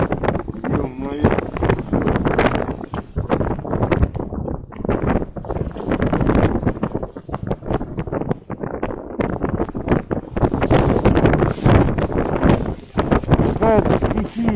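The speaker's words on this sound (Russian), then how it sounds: "Вообще сегодня ветер сумасшедший просто. Как в трубу дует." Strong blizzard wind roaring over a frozen lake during winter ice fishing, a constant heavy buffeting rush battering the microphone throughout, with someone talking under it.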